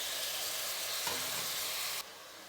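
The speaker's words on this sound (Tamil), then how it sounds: "ஒரு கிளறிட்டு மீதி இருக்கிற வெங்காயத்தை இது கூட சேர்த்துடலாம்" Onions frying in a pan for a South Indian thaali salna, stirred, giving a steady broadband sizzle at close range with a brief scrape midway, then dropping quieter near the end.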